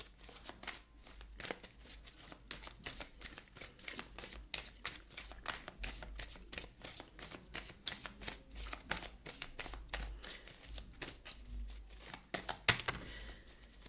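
Oracle cards being shuffled by hand in a quiet indoor setting, a steady run of rapid crisp riffling flicks and soft paper slaps that continues for the whole stretch, close and moderately loud with no voice.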